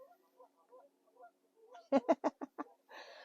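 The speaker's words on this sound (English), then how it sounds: "Hopefully the mic will pick me up more than it will the honking of the geese." Several geese honk in a quick run of loud, nasal calls, after faint softer calls at the start.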